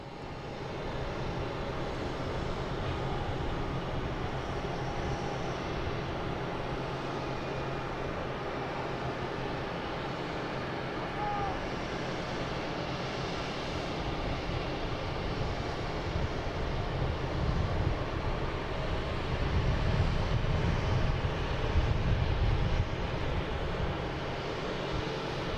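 A Delta Embraer E175 airliner arrives at Boston Logan airport with a steady distant jet roar that swells louder near the end, mixed with wind noise.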